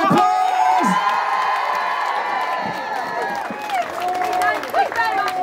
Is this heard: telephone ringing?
no